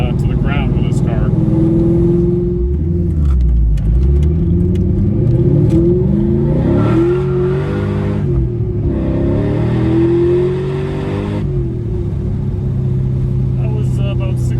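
A 2000 Ford Mustang Cobra R engine with a Bassani side exhaust revs up hard to about 6,000 RPM, climbing steeply in pitch and roaring loudly close by before dropping back to a rumbling idle.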